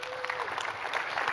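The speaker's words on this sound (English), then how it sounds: "Give Lois a round of applause." A conference audience applauds at a summit on direct primary care, a dense, steady patter of many hands clapping close by, with a brief voice under the start.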